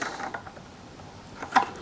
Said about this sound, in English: This just screws on.